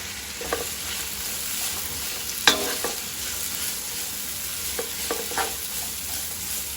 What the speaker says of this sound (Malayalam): നമുക്ക് കുറച്ച് മസാല വേണമല്ലോ, കുറച്ച് അധികം ഇട്ട് കൊടുക്കുന്നുണ്ട്. അപ്പോൾ ഇട്ടെടുത്തിട്ടുണ്ട്. നന്നായിട്ട് വഴറ്റാം.